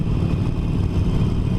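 A stock-exhaust Harley-Davidson Forty-Eight Sportster engine rumbles steadily, a low, throbbing exhaust note that is heard from the rider's seat, continuous and fairly loud with no voices.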